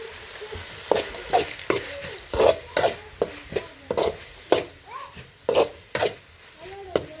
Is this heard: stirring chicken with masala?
yes